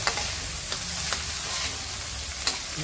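Tomatoes sizzle in a pan for pork kaldereta, a dense, even hiss broken by a few sharp utensil taps while being stirred.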